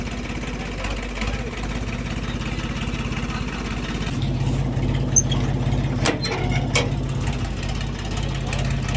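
Ford 3600 tractor engine running at idle, a steady low rumble throughout with a sharper burst near the middle; people talk over it.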